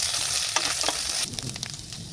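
Ginger paste sizzles in hot oil with onions and green chilies, a steady close frying hiss with a few stirring scrapes partway through, no voices.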